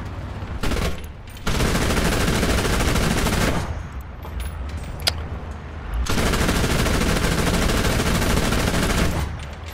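Marder A1 infantry fighting vehicle cannon in the War Thunder video game, fired in realistic battles, producing long sustained bursts of rapid automatic fire, loud and close, broken by short pauses.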